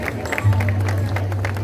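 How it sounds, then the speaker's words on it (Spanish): Audience applause at an outdoor Día de Muertos celebration in Zapotlanejo, Jalisco, a dense patter of clapping over a steady low hum and crowd murmur throughout. "Un fuerte aplauso también."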